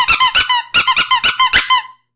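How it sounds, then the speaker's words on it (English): A small puppy squeaker toy is squeezed repeatedly, producing about a dozen loud, shrill squeaks in quick rhythmic bursts, close up and alone. "So I have my little puppy squeaker."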